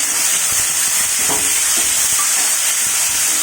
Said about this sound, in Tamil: இப்போ தக்காளி, பச்சை மிளகா போட்டு வதக்கலாம்